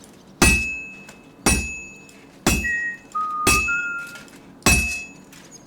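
A sword being forged in a video game: five loud, ringing hammer blows land on an anvil about a second apart, each with a metallic clink and brief high tones trailing between strikes.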